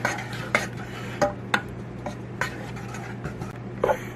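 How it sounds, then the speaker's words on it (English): A utensil stirs flour into a roux in a pan, irregular scraping and tapping strokes against the metal over a steady low hum, with no talking. "We're just going to mix this in well together"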